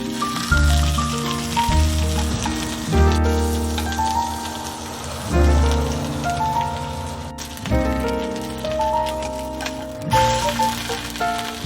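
Cheese toast fries in butter on a pan, a continuous close crackle and patter like rain with soft bumps and low rumbles underneath, steady and without speech.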